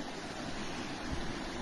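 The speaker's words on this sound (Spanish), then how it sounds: "Esta es otra parte, esta es la cabeza del río" Clear water flowing at the head of a river, a steady broadband rush with no voices, fairly close and continuous throughout.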